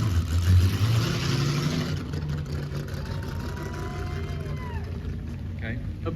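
A Ferrari 250 series car at the Hampton Court Palace Concours d'Elegance gives a deep engine and exhaust rumble, loudest at the start and then steady, with a commentator talking over it throughout.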